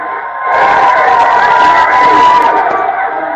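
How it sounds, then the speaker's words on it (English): Crowds cheering Prince Harry and Meghan Markle in Nottingham, a loud sustained roar of voices and shouts rising after a brief quiet start and holding steady throughout. "Prince Harry and Meghan Markle are greeted by cheering crowds in Nottingham"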